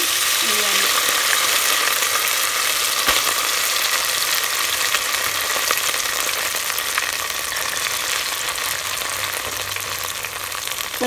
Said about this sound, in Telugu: ఇదే నూనెలో ఇప్పుడు మనము ఉడికించుకున్న అన్నము పెసరపప్పు వేయాలి